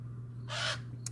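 A crow gives a single loud, harsh caw close by on a warm early summer morning outdoors, with a steady low hum underneath and a brief faint chirp near the end.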